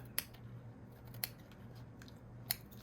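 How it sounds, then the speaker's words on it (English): Scissors cut through a piece of silk trim in three separate crisp snips spaced about a second apart, each a short sharp click over a quiet, faintly humming room. "what I think I want to do though with this silk or this piece of trim is cut off that bottom piece"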